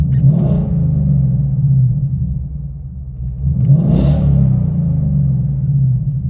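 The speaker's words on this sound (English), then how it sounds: "So let's give it some gas and see what this baby sounds like from the inside of the car." A Ford Mustang GT California Special with a Ford Racing catback exhaust, heard from inside the car, gives a deep rumbling idle, then one rev swells to about 4,000 RPM near the midpoint and drops back to a low burble.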